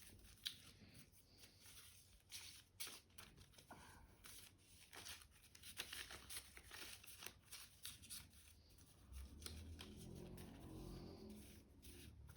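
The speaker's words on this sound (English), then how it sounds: "So we're just going to shuffle these up quickly." Playing cards shuffled and riffled close by in quick repeated bursts, soft and faint, with low background rumble.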